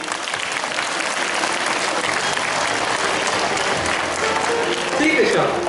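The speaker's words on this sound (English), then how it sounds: "a huge round of applause for them" Loud, sustained applause from a large crowd at a school farewell function, a dense wash of clapping that continues without a break.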